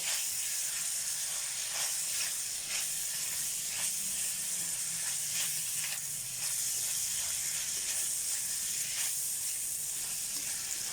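Bacon crisps in a hot pan for kugela, a steady dense sizzle and hiss running continuously close by with small popping crackles throughout.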